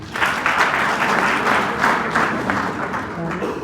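An audience at a marriage seminar claps together in steady, pulsing bursts that fill the room, with a voice speaking underneath.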